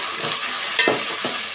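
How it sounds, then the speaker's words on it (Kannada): Fresh green peas roasting in hot oil with ginger garlic paste, a steady close sizzle with a few soft stirring scrapes breaking through. "ಸರಿ ಚೆನ್ನಾಗಿ ಈ ಥರ ರೋಸ್ಟ್ ಮಾಡ್ಕೊಬೇಕು ಆಯಿಲಲ್ಲಿ ಬಟಾಣಿನ"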